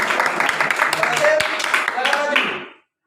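A classroom applauds a student called up to receive a prize, with a dense burst of clapping mixed with children's voices that lasts about 2.7 seconds and then stops.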